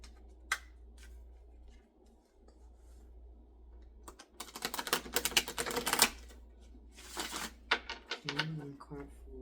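Tarot cards are shuffled in quick riffling bursts, a crisp papery flutter that builds in the middle and comes in short clustered flicks near the end, close and fairly quiet.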